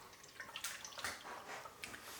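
Homemade plant-based milk trickling and splashing through a small tea strainer after blending, a faint liquid pour with a few brighter drips close by.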